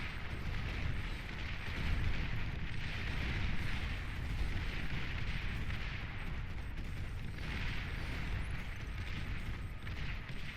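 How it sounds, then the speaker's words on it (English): Continuous dense battle din from the strategy video game Beyond All Reason as units are destroyed, with overlapping gunfire, blasts and explosions forming a loud, steady roar without pauses. "for every one tank that InDaClub is losing, 2, 3, maybe even 4 units of Ubivator are being destroyed"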